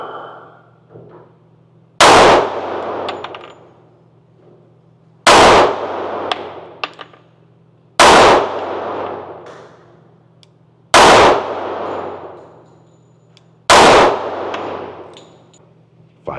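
Five loud 10mm shots from a Springfield 1911 Omega pistol fired at steel targets, each a sharp crack followed by a ringing metallic clang, spaced a few seconds apart at close range.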